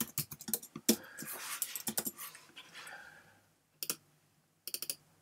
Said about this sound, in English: anywhere I click, I can literally start typing